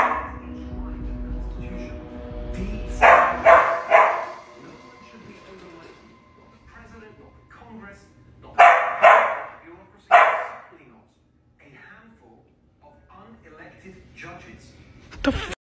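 Several dogs bark loudly inside a house, two bursts of rapid overlapping barks separated by quieter stretches, with a person talking softly and low rumbling noise early on.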